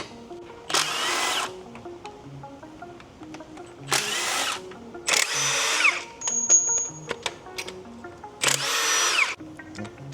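A power tool, likely a drill or impact driver, removes the transmission bolts from a Honda H22A VTEC engine in a 2001 Honda Prelude, running in four separate bursts of about a second each, close and fairly loud, with quiet pauses between.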